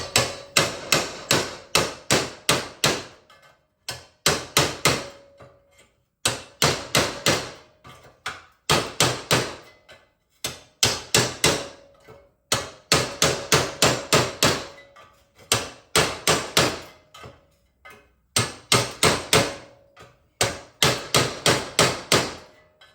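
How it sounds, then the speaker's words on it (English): Hammer strokes knock a body piece off a 1959 Triumph TR3A during front fender and body mount repair work, coming in rapid bursts of several blows separated by short pauses, loud and close throughout. "maybe one hammer stroke left to get this piece off"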